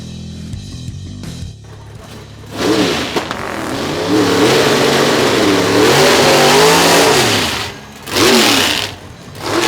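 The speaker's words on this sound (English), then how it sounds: "listen to the cubic inches under the hood of Pontieri's car" A big-cubic-inch drag racing car at Toronto Motorsports Park revs hard, the engine note rising and falling in loud sustained surges with brief dips between pulls, close and dominant with no talk.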